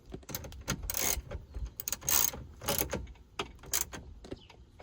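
Quarter-inch ratchet tightening bolts on a GM climate control unit in a 2003–2007 Silverado/Sierra, giving several separate bursts of quick clicking with short pauses between, close by and moderately loud.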